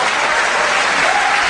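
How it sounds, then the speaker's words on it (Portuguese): Applause from a church congregation, a dense steady wash of clapping that continues through the whole moment without letting up. "Aplauda Jesus por isso,"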